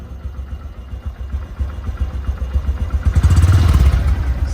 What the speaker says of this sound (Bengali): তো রানিং অবস্থায় গাড়িটির সাউন্ড শুনুন